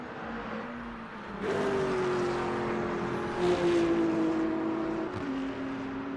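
A GT3 racing car engine in Le Mans Ultimate drones and shifts pitch, rising as it accelerates with a couple of gear changes, loud and steady without any talking.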